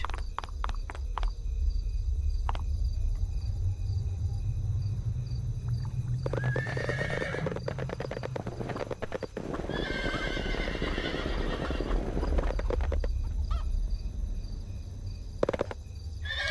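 Horse hooves clip-clop and a horse neighs in the fantasy video game Sacred Reborn, with steady hoof beats over an ambient bed of crickets and a few louder whinnies in the middle of the stretch; nobody speaks.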